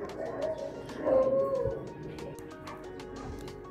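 Racing pigeons coo at a loft during a race clocking; a couple of throaty coos rise near the start, then softer clicks, shuffles and faint background noise follow, close by and moderately loud.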